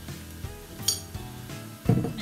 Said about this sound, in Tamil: ஒரு நிமிஷம் வதங்கட்டும் கொஞ்சம் பொன்னிறம் வெறும் அளவு வதங்கட்டும்